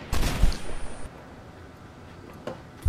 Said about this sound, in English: I hear a fat, loud shotgun going in.